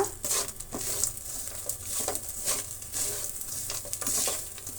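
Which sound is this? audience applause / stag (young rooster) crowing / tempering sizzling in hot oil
tempering sizzling in hot oil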